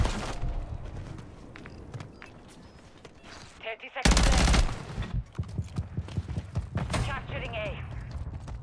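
Gunfire in Call of Duty MW3 ranked play, a heavy burst in the middle followed by rapid repeated shots, with scattered single shots and mechanical clicks, under a player talking.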